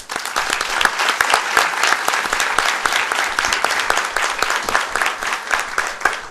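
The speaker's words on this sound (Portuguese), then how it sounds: "a quem peço uma salva de palmas." Sustained, dense applause fills a hall at a Brazilian law congress on civil procedure, a large audience clapping loudly and evenly from start to finish with no voices over it.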